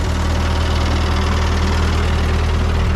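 An old Ford 9N or 2N tractor fitted with a V-plow runs close by with a loud, steady low chugging and rumble, no voices over it.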